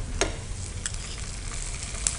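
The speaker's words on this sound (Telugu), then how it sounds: "ఆనియన్స్ మంచిగా ఫ్రై అవ్వాలి" Onions fry in oil in a pan, giving a steady soft sizzle with a few faint stirring scrapes. No one speaks.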